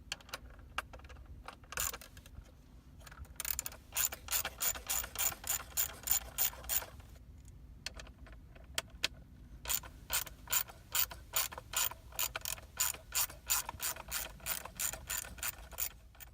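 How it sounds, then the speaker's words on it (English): A ratchet fitted with a T30 Torx bit loosens screws on a GM truck steering wheel during an airbag replacement, with bursts of rapid clicking separated by short pauses, close and clear, with no talking. "you're going to want to take a T30 Torx bit and remove these 4."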